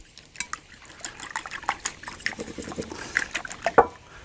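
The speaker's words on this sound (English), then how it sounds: "Take a farm fresh egg. Give them a little bit of a whisk." Farm fresh eggs are whisked in a bowl for a Greek egg sauce, a rapid series of light clinks and wet taps against the bowl, close and fairly quiet, with no talk.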